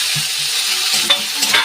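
Chopped tomato dropped into onions already fried until reddish in a pan, giving a steady close sizzle with bursts of crackling and stirring scrapes.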